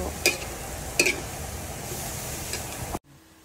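Bamboo shoot adobo being stirred with salt in a pan, giving a few sharp utensil clacks against the metal over a low sizzle before cutting off abruptly.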